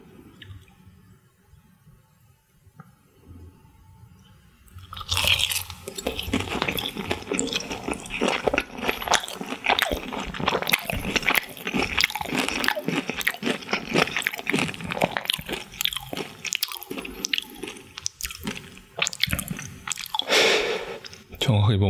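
Close, loud crunching and chewing of Jadam Sriracha fried chicken, with crisp bites followed by steady wet mastication and occasional squishy sounds, starting after a few quiet seconds and continuing densely to the end.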